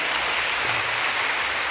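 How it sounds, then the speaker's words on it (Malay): Young audience at a national Islamic youth leadership convention opening ceremony applauding: dense, loud, continuous clapping filling the whole moment. "satu tepukan adik-adik kepada mereka semua ini"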